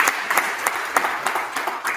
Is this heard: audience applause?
yes